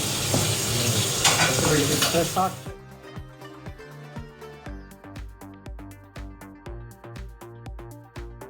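Kallummakkaya (mussels) frying in a pan, a dense crackling sizzle with stirring at first, then sharper pan clinks and scraping as it settles into a rhythmic tapping under quieter frying, with talk over it.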